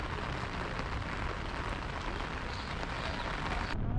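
Steady rain falls on a very rainy day outdoors at the USS Bowfin Submarine Museum & Park, a continuous close hiss and patter on surfaces with no voices.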